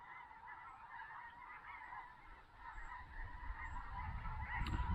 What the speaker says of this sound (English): So look at these geese coming in this field.